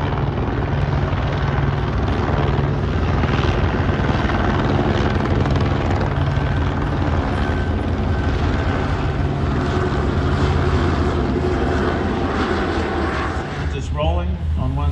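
A helicopter flies at the Classic Fighters Omaka 2023 air show, its loud rotor thrum and engine drone filling the air steadily throughout, with a commentator's voice over the public address near the end.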